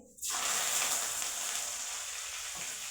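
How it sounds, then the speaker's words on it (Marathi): Curry leaves sizzle and crackle in hot oil for fried poha chivda, a steady close hiss that starts abruptly and continues evenly throughout. "कढीपत्ता मस्तपैकी खरपूस असा तळून घ्यायचा"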